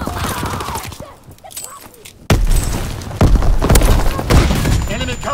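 A grenade blast in the World War II shooter Call of Duty WW2 lands as one sharp, loud boom, with a burst of gunfire and voices around it.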